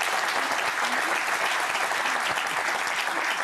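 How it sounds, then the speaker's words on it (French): A television studio audience applauds a guest, a French actress and singer, with steady, dense clapping filling the whole stretch at an even level, no voices standing out. "J'aimerais qu'on l'applaudisse."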